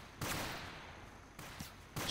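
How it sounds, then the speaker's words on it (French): Gunfire in a Total Conflict Resistance battle, with three bursts of shots that stand out over steady background noise, moderately loud and without speech. "ce que j'entends, c'est que ça commence à tirer"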